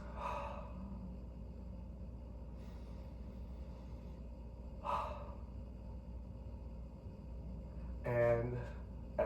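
Deep breaths taken during a yoga sculpt class, a few faint slow inhales and exhales spaced several seconds apart, with a louder breath near the end over a low background hum.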